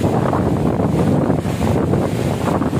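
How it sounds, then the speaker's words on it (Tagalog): Strong typhoon wind over rice fields buffeting the microphone in loud, continuous gusts that swell and ease, with no voices. "Talagang napakalakas ng hangin ni Christine."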